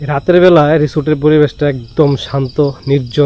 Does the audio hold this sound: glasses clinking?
no